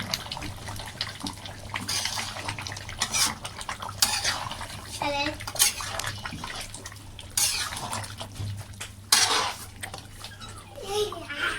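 A pot of food bubbling at a rolling boil on the stove, with frequent clinks and scrapes of a utensil stirring against the pot over a steady low hum.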